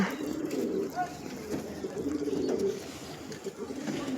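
Pigeons coo at Karim Dada's house, soft low murmuring calls repeating throughout at moderate closeness, with faint background voices.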